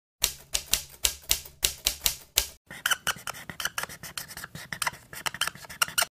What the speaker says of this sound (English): Okay, now let's get typing.